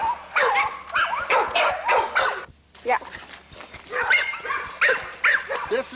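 Pit bull type dogs, American pit bull terrier game dogs at a kennel, bark and yip in the background while someone talks over them. The dog sounds are scattered and moderately loud.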